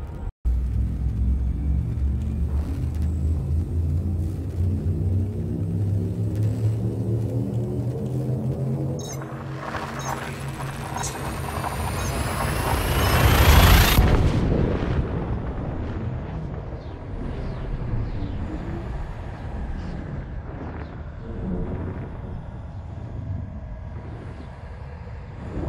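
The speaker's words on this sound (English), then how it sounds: "Shift drive charging." Elite Dangerous spacecraft shift drive charging up, a deep rumbling drone with rising tones that swells into a loud roaring jump burst before settling back into a lower hum, with no voices.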